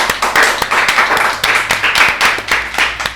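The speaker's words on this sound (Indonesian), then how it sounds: "tepuk tangan untuk beliau" Loud, close clapping from a small audience at a talk show, sharp individual claps in an uneven rhythm over a brief burst.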